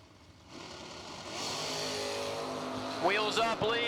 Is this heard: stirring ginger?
no